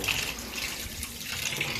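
Water runs steadily from a tap while raw chicken is washed at a sink, a close, continuous splashing hiss broken by small uneven splatters as the water strikes the meat.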